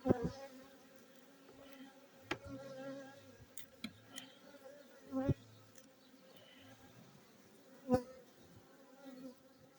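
Honeybees from a weak package colony buzz steadily in a dense, droning hum, close by, with a few brief knocks and taps rising over the swarm.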